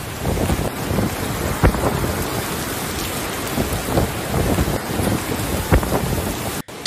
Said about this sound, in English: It's so windy now that I do not dare to go out and inspect my neighborhood, said Lin Sai Wang